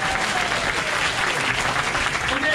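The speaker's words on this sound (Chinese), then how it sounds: "你们是不是给我一点掌声？" Audience members at a tech conference talk clap together in a steady, fairly loud burst of applause lasting a few seconds.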